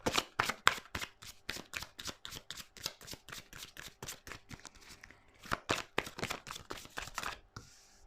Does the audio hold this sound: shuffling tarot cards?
yes